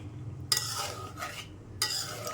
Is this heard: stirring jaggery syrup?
yes